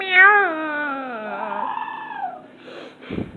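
A person imitating a cat's meow: a drawn-out, falling, whiny vocal mew, fairly loud and close, followed by a short breathy sound.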